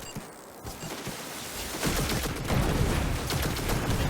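Rapid auto rifle gunfire in the video game Destiny 2, a dense sustained burst that grows louder after the first couple of seconds and continues steadily to the end, with no talking over it.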